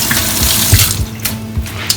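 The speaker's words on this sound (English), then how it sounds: "wash my hand first." Kitchen tap running as hands are washed before cooking fish, a close steady stream with splashes and rubbing.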